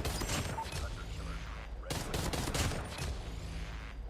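Gunfire crackles in Call of Duty Mobile, rapid automatic bursts close and loud, with a brief pause before another volley of shots.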